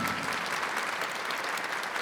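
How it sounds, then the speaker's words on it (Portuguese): Church audience at a Catholic evening talk clapping together in a dense, even wave of applause that fills the room for a couple of seconds without letting up. "Pode aplaudir?"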